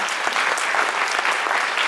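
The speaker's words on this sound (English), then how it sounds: "Give Joseph a round of applause" A high school event audience claps in steady, dense applause, loud and continuous for the whole short stretch with no voices over it.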